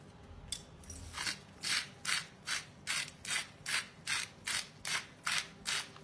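A grinder cracks rock salt over a chopped bean salad in about a dozen regular, crisp ratcheting turns, quiet and close, with no voices.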